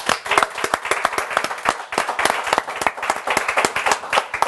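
A studio audience claps for a singer at a televised event: a dense, steady burst of many hands beating fast and close, sustained throughout with no voices over it.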